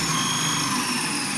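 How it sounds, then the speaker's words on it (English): A power drill bores drainage holes through apartment letterboxes being made into a planter, a steady high whine running continuously at close range with no pauses. "we're drilling the drainage holes in the little cubicles"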